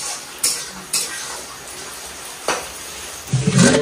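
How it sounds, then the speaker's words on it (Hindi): Masala and onions are fried in a home kitchen pan under a steady, close sizzle, with a few sharp spoon scrapes and a louder clatter at the end. "रियाज इधर फ्राई कर रहे हैं मसाला, ये प्याज वगैरह चावल फ्राई खाएंगे अभी"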